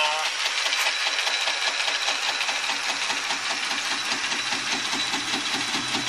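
A lathe turns a workpiece supported in a steady rest, giving a loud continuous mechanical whir with a steady rhythmic pulse and no pauses.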